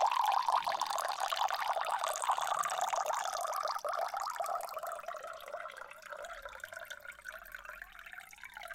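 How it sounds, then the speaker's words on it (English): Water is poured close up into a glass in one continuous trickling stream lasting several seconds, its tone slowly shifting as the glass fills, with no talking. "I'm actually just gonna pour myself some water."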